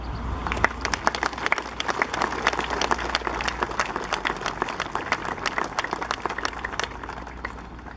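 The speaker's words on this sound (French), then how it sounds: "Je vous demande de les applaudir." An outdoor crowd claps at the inauguration of the RN 125 road, producing scattered, distinct handclaps that continue steadily throughout over a low background hum.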